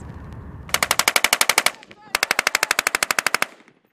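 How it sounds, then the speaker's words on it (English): Live-fire gunnery by armored vehicles during a platoon Table 12 qualification at Camp Buehring, with machine guns firing two long rapid bursts of evenly spaced, loud, sharp reports separated by a brief pause. "Table 12 is a live fire and tests the capabilities of multiple vehicles"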